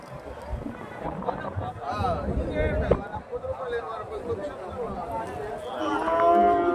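Cattle lowing at a busy livestock market in Chintamani, Karnataka, with bellows rising over constant crowd chatter and nearby voices throughout.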